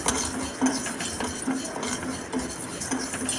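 A spoon scrapes and clinks steadily in a pan as a coconut mixture with cardamom is stirred and roasted golden for coconut thirattupal, making repeated rhythmic strokes at close range.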